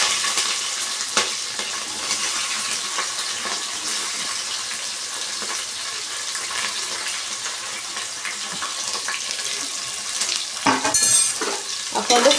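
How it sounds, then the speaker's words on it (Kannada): Green chilies and onion frying in a pan as Kannada-style breakfast rice is cooked, giving a steady, close sizzle with occasional stirring scrapes and a brief burst of louder crackle near the end. "ಹಾಕ್ಕೊಂಡು ಫ್ರೈ ಮಾಡ್ತಾ ಇದ್ದೀನಿ"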